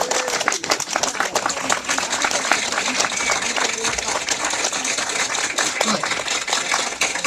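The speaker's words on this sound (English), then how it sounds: "give them all a round of applause and welcome them on" An audience at an awards ceremony claps to welcome new trainees, a dense and fairly close round of applause running the whole time, with some voices mixed in.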